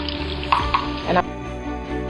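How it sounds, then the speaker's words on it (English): Tomato paste stirred in a hot frying pan for jollof rice: a loud, close sizzle with a brief scraping stir, settling into steady frying. "I've given the tomato paste a little bit of a stir"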